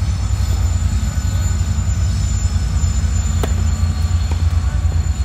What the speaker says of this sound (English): Here comes another one of those big cold trains